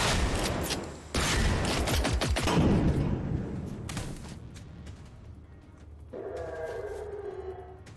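Heavy automatic gunfire from the video game Generation Zero rattles in dense bursts for about five seconds, then fades to a quieter mechanical whine with a tonal hum near the end.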